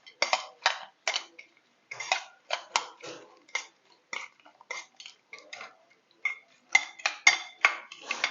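A spoon clinks and scrapes against a bowl while mixing tomato sauce and chaat masala, with quick irregular taps and clatters in close bursts and short pauses, no talk.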